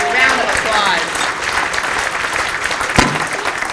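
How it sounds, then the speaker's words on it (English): Audience applause at a housing award ceremony, a steady burst of clapping with a voice speaking over it at the start and a sharp knock or thump partway through. "round of applause"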